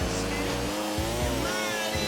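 A motorcycle engine from the video game GTA IV: The Lost and Damned drones loudly with pulsing revs, mixed under a continuous bed of game sound.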